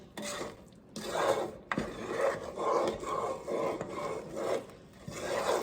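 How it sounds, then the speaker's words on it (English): A spoon stirs thick fudge in a cooking pot, a steady back-and-forth scraping and rubbing with roughly one stroke per second, close but fairly soft. "I'm not going to stop stirring this because I do not want burnt fudge"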